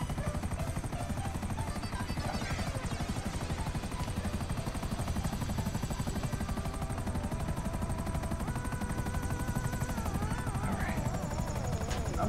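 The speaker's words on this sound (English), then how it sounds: "This is actually kind of a fast helicopter." A fast helicopter in Grand Theft Auto V flies steadily throughout, its rotor and engine drone continuous and fairly loud, with faint bursts of gunfire and game sounds layered over it.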